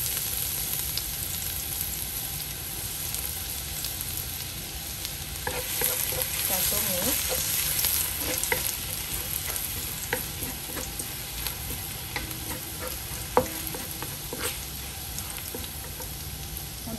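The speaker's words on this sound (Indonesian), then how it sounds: "Saya udah panaskan minyaknya ya, teman-teman. Kemudian kita masukkan bawang putih." Garlic frying in hot oil for a sweet and sour fish dish makes a steady crackling sizzle close by, with occasional stirring scrapes and one sharp clink, and no voices.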